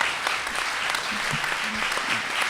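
A crowd at an Azione Cattolica meeting applauds in a dense, even wash of clapping, with faint murmuring voices underneath.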